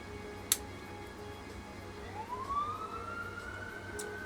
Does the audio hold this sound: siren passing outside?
yes